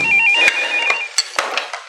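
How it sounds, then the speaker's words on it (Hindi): An old landline telephone rings loudly and close, a steady electronic trill broken by sharp clacks and thumps, with no talk. "साईं अकबर जी का फोन है आपके लिए"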